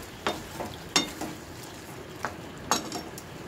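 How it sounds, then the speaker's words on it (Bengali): Chicken with a little sugar sizzles quietly in a pan as a spatula stirs it, and several sharp metallic clinks against the pan ring out at irregular intervals over the soft frying. "ভালো করে কষিয়ে নেব ওটাকে।"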